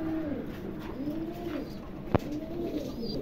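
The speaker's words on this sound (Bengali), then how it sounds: "অনেক কবুতর আছে, হাউস পিজন আছে" Pigeons at a pigeon farm, including house pigeons, coo in a steady, repeating rhythm of soft throaty calls, close and continuous, with one brief sharp knock partway through.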